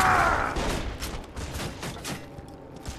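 Enemy gunfire in Borderlands 2 comes as a rapid burst of repeated shots, loud and close at first, then continuing as a rattling volley through the short clip.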